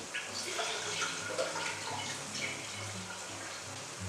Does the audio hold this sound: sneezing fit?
no